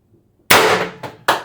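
Pistelle X-68 CO2 air pistol fitted with an MCS Reaper birdcage suppressor fires one loud, sharp close shot after near silence, followed by two quicker metallic clacks of pellet impact or action.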